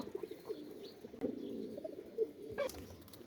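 A male pigeon coos in low, repeated throaty rolls close by, with a brief sharper sound near the end and no voices.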